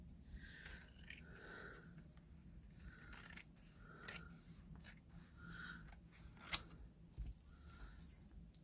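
Paper being trimmed with scissors for a junk journal, a few soft snipping and cutting sounds spread through a quiet indoor room, with one sharper click near the end.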